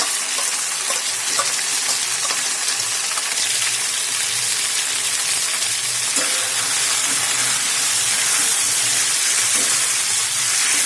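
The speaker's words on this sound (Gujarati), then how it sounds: "આપણે ઘીમાં આદુને 3 થી 4 મિનિટ આ રીતે શેકવાનું છે" Crushed ginger frying in hot ghee, a continuous close sizzle with soft stirring and scraping clicks, no talking.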